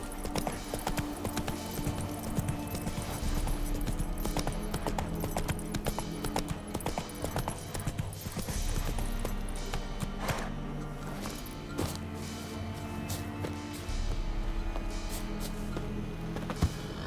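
Roach, a horse in The Witcher 3 video game, gallops in a steady, continuous run of clip-clop hoofbeats, loud and close throughout, with a brief whinny and faint game background sounds.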